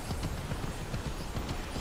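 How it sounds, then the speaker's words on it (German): A horse in the Immortals Fenyx Rising video game gallops along in a fast, steady clip-clop rhythm that stays even and moderately loud for a brief run, with no talk over it. "Springen, mein Pferdchen, springen!"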